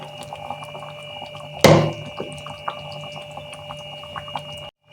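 Spinach paste tipped from a container into a cooking pan of chicken, landing in a single thick splatter and slump, followed by faint scraping and small clinks over a steady background hum.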